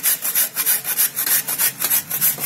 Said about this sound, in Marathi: आपण आता गूळ किसून घेऊया. 4 वाट्या गूळ घेऊया किसून.